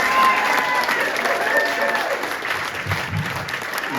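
A room of voters at a Green Bay political rally breaks into sustained applause and cheering, a dense, loud wash of clapping that holds steady for the full stretch with no talk over it.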